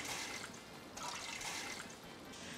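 Water splashed onto a hot pan on a stove while making rotis hisses in a steady, close sizzle that swells twice, with no voices.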